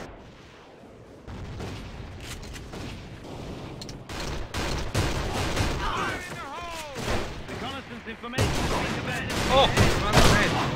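Rapid gunfire from an online shooter game, AVA, with dense bursts of shots and blasts through most of the stretch, loud and close, while a player's voice calls out over the shooting.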